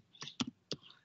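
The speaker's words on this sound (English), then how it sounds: "Let's try typing in" Three quick, close clicks of keys struck on a computer keyboard, spaced unevenly and quiet.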